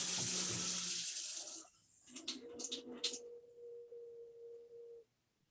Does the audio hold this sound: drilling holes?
no